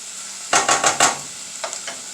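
Red onions sautéing in a pot for Puerto Rican beans, stirred in four quick scraping strokes over a soft sizzle, then a couple of lighter stirs; close and fairly clear, with no talking.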